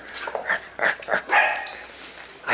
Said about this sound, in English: I think you're being mocked by the vicious dog over there.